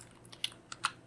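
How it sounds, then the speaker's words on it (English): Quick typing on a computer keyboard during Python Django coding, a few sharp close key clicks spread over about a second, with no talk. "the way we do that is by typing in python"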